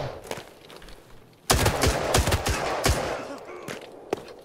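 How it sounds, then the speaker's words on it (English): Rapid gunfire in the shooter game Arena Breakout: Infinite, with a few scattered shots and then a sudden loud sustained burst of automatic fire that continues in close, dense cracks. "There's someone shooting at me right now."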